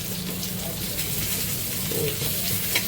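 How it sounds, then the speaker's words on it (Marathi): Brinjal roasting in a pan with no water, giving a soft, steady sizzle and crackle close to the pan with faint stirring, quiet and continuous with no talk. "भाजून घ्यायचे"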